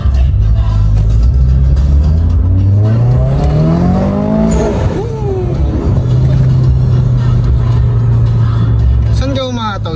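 Honda Civic ESi engine revving, climbing smoothly in pitch then dropping back to a steady drone, loud and close with voices talking over it.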